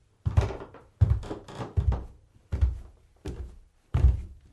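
Footsteps descend steep, narrow wooden ladder rungs from a ship's deck into the hold, six heavy, evenly spaced thuds on the wood, close and loud with no talk.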